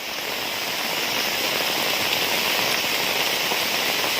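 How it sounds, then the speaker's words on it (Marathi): Heavy rain pours down in a dense, steady roar with no breaks and no voices. "असाच परत एकदा मुसळधार पाऊस आला आहे"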